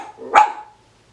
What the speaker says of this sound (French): 3 qui jappent pour rien